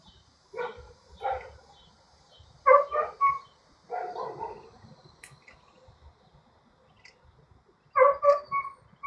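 A dog barks in several short bursts of two or three barks separated by quiet pauses, fairly close and loud against an otherwise still background.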